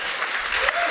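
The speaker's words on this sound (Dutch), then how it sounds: "Mag ik een warm applaus voor deze twee?" A warm round of audience applause for two children's book authors at a literature event, a brief, even burst of many hands clapping at moderate volume.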